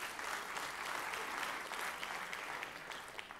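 A crowd claps steadily, a dense, even wash of applause that fades slightly toward the end, at a city State of the City address.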